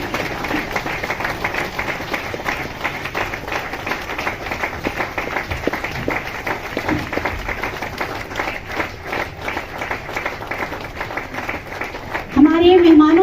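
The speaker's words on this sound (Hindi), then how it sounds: "हमारे मेहमानों के लिए आप जोरदार तालियां बजाते रहें" A crowd at a Christmas gathering claps for guests with steady, dense applause that continues for over twelve seconds at moderate loudness, and a voice begins speaking at the end.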